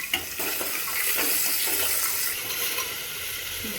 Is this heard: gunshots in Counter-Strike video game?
no